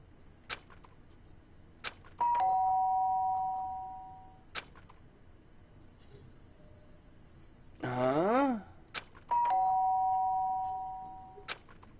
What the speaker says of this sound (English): The sharp sound of the doorbell pierced my sleepy haze and pulled me back into the real world.